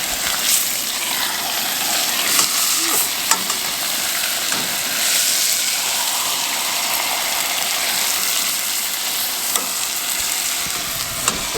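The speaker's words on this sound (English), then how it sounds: "Dad's cooking up some steaks." Steaks sizzle loudly and steadily in a pan at a hunting camp, a dense continuous frying hiss with occasional small pops and crackles, close up and with no talking.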